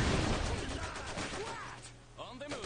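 Rapid gunfire from the 1920s alternate-history strategy game Iron Harvest, a dense crackle of shots and impacts that thins out toward the end, with faint voices underneath.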